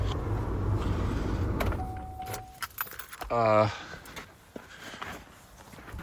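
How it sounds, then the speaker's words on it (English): Keys jangle loudly near the ignition as a 2008 Chevy Malibu LS is switched off, with a brief electronic tone and a clinking burst over the fading cabin hum. "I'm gonna shut the car off now."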